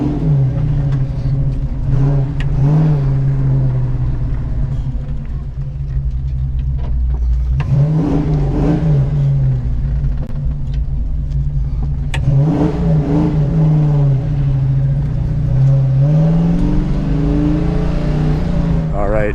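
A classic Ford Mustang's engine roars loudly and close, rising and falling through repeated revs and accelerations, with the e-brake left on during the runs; a few voices are partly heard under the engine.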